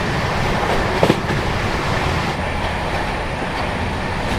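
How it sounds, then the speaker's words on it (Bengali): The Sealdah-Varanasi Amrit Bharat Express running at high speed makes a loud, steady rumbling roar, heard from close by, with a brief clatter of wheels early on. "ঝড়ের গতিতে ছুটে চলেছে শিয়ালদা বারাণসী অমৃত ভারত এক্সপ্রেস।"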